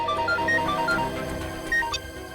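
A phone ringtone plays a repeating melodic electronic tune, fairly loud and close, over a low background murmur for a couple of seconds.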